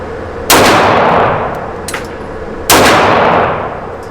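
Two loud, sharp pistol shots from a CZ TSO at an outdoor shooting range, fired about two seconds apart from 7 yards, each with a ringing, echoing decay.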